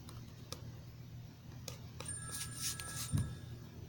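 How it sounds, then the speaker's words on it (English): A phone ringtone plays, with short bright tinkling tones and a brief higher electronic tone, all fairly faint and close, with no one talking. "The phone is ringing, Smithers."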